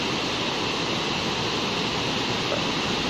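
Steady, dense rush of falling water at Temurun waterfall on the Anambas Islands, a continuous broadband roar heard close and alone with no pauses or voices.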